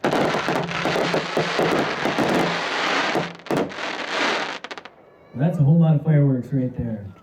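Three fireworks cakes fire at once in a loud outdoor demo, a dense barrage of crackling bursts and booms for about five seconds, then someone speaks.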